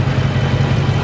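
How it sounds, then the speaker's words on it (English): A 2021 Scat Pack wide body engine idles in a steady, low, even burble, heard close and alone without any revving. "While it's idling, you can barely hear the engine running"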